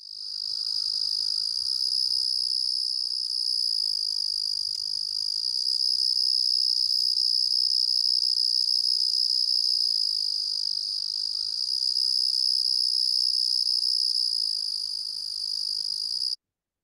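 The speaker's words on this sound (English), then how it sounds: "So let's start with the Carolina ground cricket." A Carolina ground cricket (Eunemobius carolinus) trills steadily and without a break, a continuous high buzzing song that holds at even loudness throughout, with no voices present.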